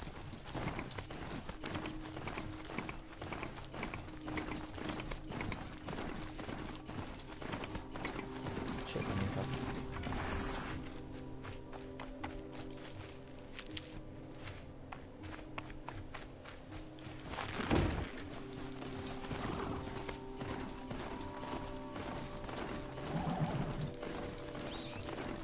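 A robotic riding mount gallops in Horizon Zero Dawn, its hooves clip-clopping in a quick, steady rhythm with mechanical whirring and ratcheting gear sounds, heard moderately quiet and without speech.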